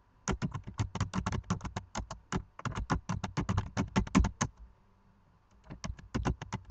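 Someone types on a computer keyboard in quick, close bursts of crisp key clicks, pausing briefly midway before resuming another rapid run of keystrokes.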